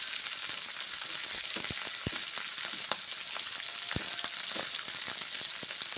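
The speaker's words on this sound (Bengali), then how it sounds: "সবজিগুলো নেড়ে ছেড়ে ভেজে নিচ্ছি।" Mixed vegetables for a Bengali five-vegetable curry frying in hot oil, a steady close sizzle with spoon scrapes and stirring clatter throughout.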